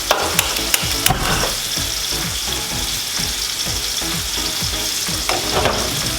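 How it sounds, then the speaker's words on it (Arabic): Onion and garlic fry loudly in oil in a second pan, a dense continuous sizzle with frequent rhythmic stirring scrapes and clinks, close and alone without any voices. "رح اجيب تقلاية ثانية وبلش بالبصل والثوم"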